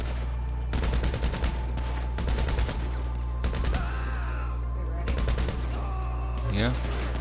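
Gunfire in GTA V Online, with several bursts of rapid automatic fire separated by short pauses and a steady hum underneath.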